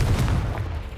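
Confringo explosive spell cast in the Hogwarts Legacy video game, a heavy booming blast with a deep low rumble that rolls on for about a second.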